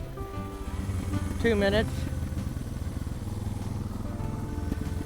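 A Suzuki DR650 motorcycle rides around a neighborhood, its engine a steady close rumble with wind noise throughout, while someone speaks briefly over it.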